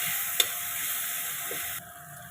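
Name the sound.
broad beans with lentil dumplings frying in pan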